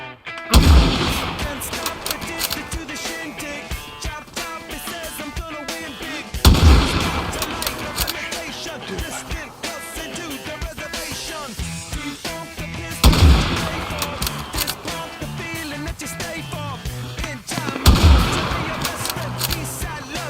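Gunfire from the multiplayer zombie shooter No Man's Z, with loud bursts of shots and booms arriving in four distinct volleys spaced several seconds apart over continuous background game sound, with a little faint talk.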